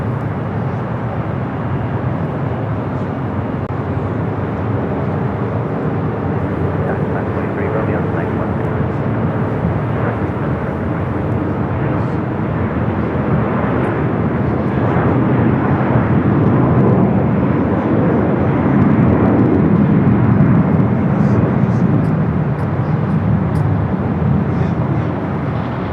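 Boeing 767 jet at LAX, a broad sustained engine roar that swells louder toward the end, with tower radio chatter and voices underneath.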